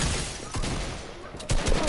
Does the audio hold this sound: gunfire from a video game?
yes